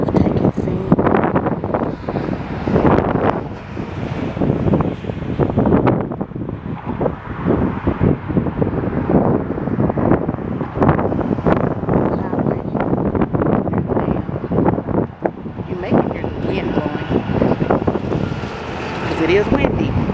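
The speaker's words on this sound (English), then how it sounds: "It is windy," Strong wind gusts roar across the microphone at Hoover Dam in a steady, buffeting rush that lasts throughout, with faint voices mixed in.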